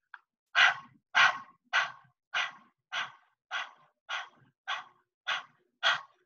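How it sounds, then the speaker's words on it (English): Breath of fire yoga breathing done with the tongue out, ten sharp forceful breaths in an even rhythm, each a short breathy burst, close and clear with silence between. "We'll begin with the breath of fire."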